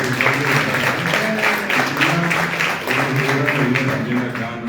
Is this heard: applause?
yes